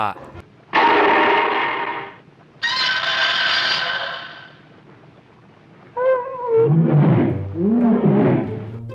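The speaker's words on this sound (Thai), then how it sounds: "การคำรามเสียงหน้าเกรงขามแบบก็ซิล่า" Minilla, the young son of Godzilla from a Showa-era kaiju film, gives two long, harsh, broad roars, then a pair of shorter, wavering, higher-pitched cries, loud and close with pauses between them.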